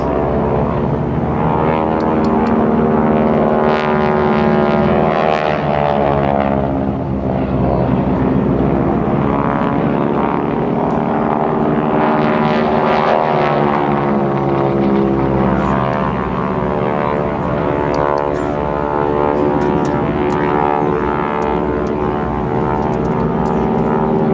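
GEICO Skytypers North American Texan (SNJ) propeller trainers fly a spiral attack dive at a joint services open house, their radial engines droning loud and continuous, swelling and fading as the planes pass overhead.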